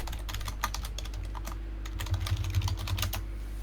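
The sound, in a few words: typing on a computer keyboard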